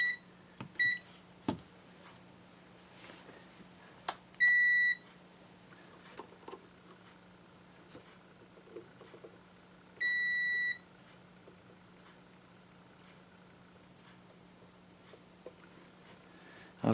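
A multimeter on continuity testing a Bearcat BC895XLT scanner under repair gives short electronic beeps, a couple of quick chirps then longer tones, near and clear against a low hum and faint handling clicks, with no talk.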